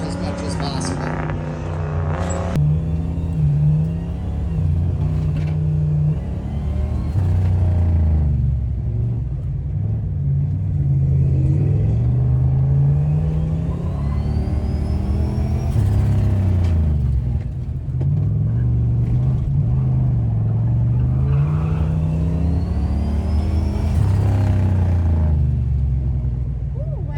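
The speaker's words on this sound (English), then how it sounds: "trying to drift the turbocharged cop car as much as possible." A turbocharged V8 police car drifts on a racetrack, its engine rising and falling in repeated revving sweeps, loud and close, with a voice talking over it.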